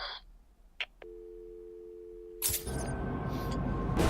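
A telephone in Batman: Arkham City gives a single steady electronic tone, followed by louder rumbling game ambience and a faint mechanical whine.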